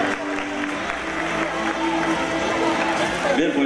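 Steady applause from a festival audience at the Guardamar 2022 queens and maids election, a dense continuous clapping wash with crowd noise and a voice over the top throughout.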